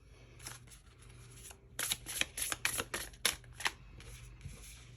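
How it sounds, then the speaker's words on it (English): Oracle cards being shuffled in a close, crisp burst of rapid riffling flutters, with quieter handling before and after; no voices. "shuffle up my spellcasting oracle cards"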